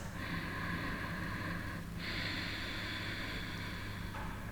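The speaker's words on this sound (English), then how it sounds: "So trying to constrict the throat and creating the sound in the glottis" A soft, steady ujjayi breath drawn and released through a constricted throat, an aspirated, ocean-like hiss in two long strokes, faint and close with no talking.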